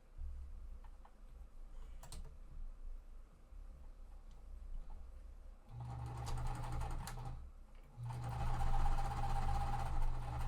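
Sewing machine stitching die-cut quilt fabric pieces placed right sides together, in two steady runs of rapid mechanical stitching separated by a short pause, preceded by quieter handling sounds.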